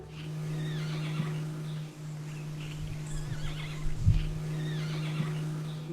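A jay softly mimics a horse's neigh, producing whinny-like calls over a steady low hum, with faint scattered bird notes and a thump partway through.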